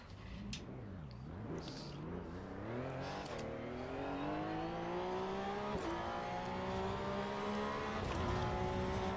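A race car engine in the Assetto Corsa EVO racing game revs up and down through gear changes, pitch climbing steadily under acceleration, loud and continuous with no voices.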